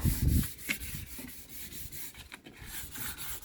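Hand sanding of freshly varnished wood under firm pressure, heard as faint, soft rubbing strokes in an irregular rhythm, close by and alone.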